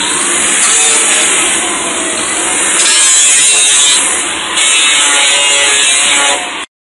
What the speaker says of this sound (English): Now we're going to sand it all down.